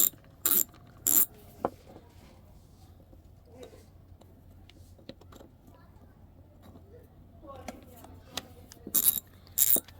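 A previously seized Proto Challenger 1260 USA ratchet clicks when turned: sharp bursts of close metallic ratcheting at the start and end, separated by quieter mechanical fiddling and faint handling noise.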